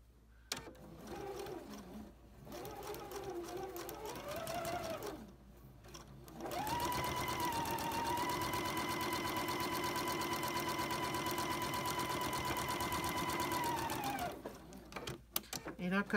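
A sewing machine stitches fabric for a courthouse steps quilt block at a quarter-inch seam, first in short bursts, then in one long steady run of whirring, closely heard, with someone talking before.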